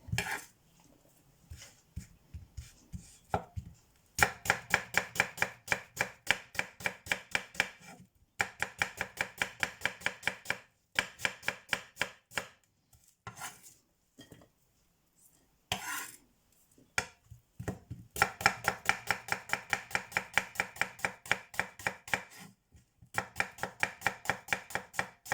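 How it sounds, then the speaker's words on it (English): Onions are chopped with a knife on a board for chicken biryani, sounding as rapid, even, close taps in long bursts separated by brief pauses. "cut the onions in all in same size"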